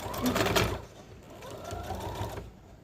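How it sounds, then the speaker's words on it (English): A sewing machine stitches a fitted fabric face mask with a filter pocket and wire, its close motor whirring in two short runs that briefly slow between them. "We're gonna keep sewing."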